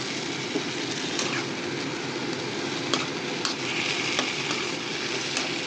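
Marinated chicken frying in a pan, a steady bright sizzle with occasional sharp crackles and spatters, close and continuous with no talking.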